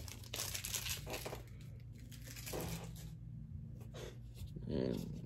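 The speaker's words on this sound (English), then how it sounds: "let me just remove the tape so there isn't no glare" Tape peeled and crinkled off a Star Wars Black Series toy box, with intermittent close rustling and plastic crackle in short bursts and a few quieter pauses.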